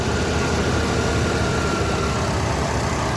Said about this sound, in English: it sounds a lot better than it did. That idle is fine.